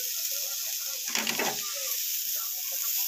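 Poha or cauliflower bhaji mixture being stirred in a hot pan, a steady sizzle throughout with one brief louder burst of scraping and spattering in the middle.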